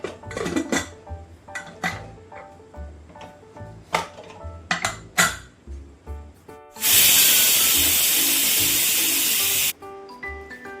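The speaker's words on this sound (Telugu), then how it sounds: "మూత పెట్టుకొని ఒక 4-5 విజిల్స్ వచ్చే వరకు" Kitchen clatter and clinks give way to a loud, sustained whistle from a pressure cooker cooking mutton curry, blasting steam for about three seconds, then the clinking resumes.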